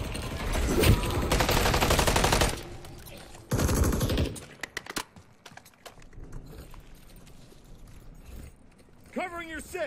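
Automatic gunfire in Modern Warfare 3 Zombies, loud dense bursts of rapid shots in the first few seconds, then scattered shots and mechanical clatter, with a voice briefly heard near the end.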